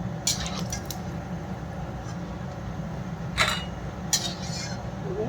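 Fried lentil dumplings (bori) are lifted out of hot oil with a few light metallic clinks and scrapes of a utensil over a continuous low frying hiss.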